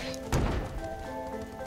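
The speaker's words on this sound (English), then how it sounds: "Luckily I had that cannon there to blow up those guys" In the Skylanders: Spyro's Adventure video game, a cannon fires on enemies: one heavy, dull thud early on, standing out above steady tonal game music that carries on afterward.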